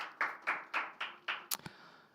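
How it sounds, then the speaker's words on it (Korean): Welcome clapping at a prayer meeting: about five loud, evenly spaced hand claps close by, then a couple of sharper taps as it tails off, with no talking. "그래서 우리 모두 박수로 또 환영했으면 좋겠습니다."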